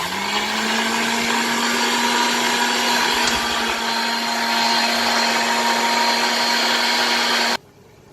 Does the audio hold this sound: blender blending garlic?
yes